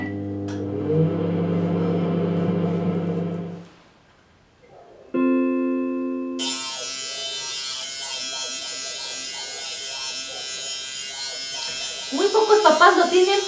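An electric shaver buzzes steadily after a pause, its whine shifting pitch; speech is heard in the background throughout.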